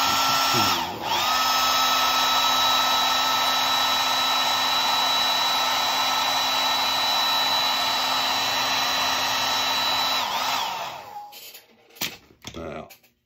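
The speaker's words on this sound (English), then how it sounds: "I'm going to just get the hairdryer in that one spot so we can continue on." A hair dryer blows steadily on watercolor paper while a goldfinch is being painted, a loud continuous whine with a motor hum. It cuts in after a short hitch, runs for about ten seconds and then shuts off.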